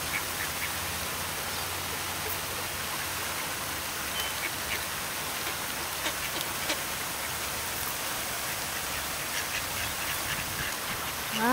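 Faint duck quacks come through now and then over a steady hiss like rain, with no voices.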